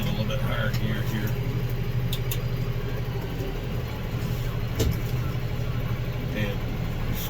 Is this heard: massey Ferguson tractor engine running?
yes